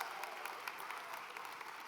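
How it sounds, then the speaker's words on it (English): A crowd at a swearing-in ceremony and welcome reception gives a round of applause, a dense, even patter of many hands that sounds somewhat distant and fairly quiet, with no one talking over it. "Let's give him a round of applause."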